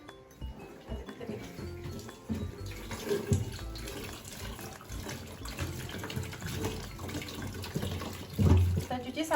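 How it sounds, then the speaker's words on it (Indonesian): Cassava roots are washed under running tap water in a sink, with a steady splashing flow, clatter of roots against the basin, and occasional low thumps from handling, close up. "Tahapan pertama yaitu kita cuci dulu singkong yang kita punya."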